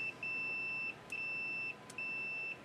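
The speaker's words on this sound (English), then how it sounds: "you're going to put your meter into the beep selection diode mode." A multimeter set to diode/continuity mode gives out steady high-pitched beeps, three sustained tones separated by short gaps. The beeps come while MOSFETs on a BMW MSD80 engine control unit are being tested, and they are clear against a quiet background.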